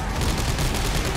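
Gunfire in Dead Space 3 comes as a short, loud, rapid burst of shots close up.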